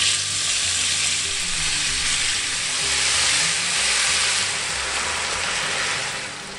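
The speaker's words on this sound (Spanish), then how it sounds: "En aceite caliente, comenzamos a freír la carne a lumbre alta" Beef steak fries in hot oil over high heat, producing a loud, dense, continuous sizzle that holds steady close up and tapers slightly at the very end.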